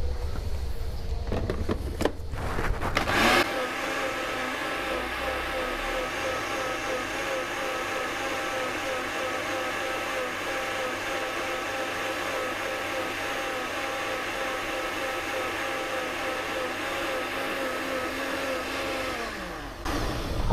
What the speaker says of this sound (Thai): เอาเครื่องปั่น